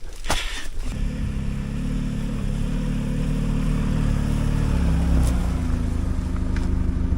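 A jeep drives along with a continuous low engine rumble and road noise, heard up close from inside the vehicle, with a few brief clicks and knocks over the steady drone.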